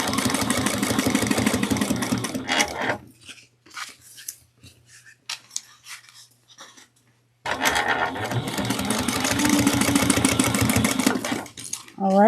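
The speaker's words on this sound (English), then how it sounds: "Then we're going to top stitch at 1/8 of an inch." Sewing machine top stitching a crossbody bag at an eighth of an inch, running in two steady bursts of a few seconds each with a quiet pause between, with a person talking over parts of it.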